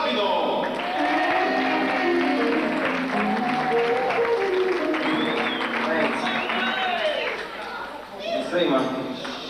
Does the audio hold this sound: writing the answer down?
no